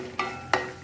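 Chickpeas frying in oil for poha chivda (beaten rice mixture), with two short bursts of sizzling and stirring over a low steady background, close and moderately loud.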